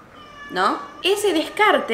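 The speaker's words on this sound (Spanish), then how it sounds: "si escuchan un gato llorando" A cat cries and meows from behind a closed door in another room, three drawn-out, rising and falling meows in quick succession, loud and clear, with someone speaking Spanish under the first of them.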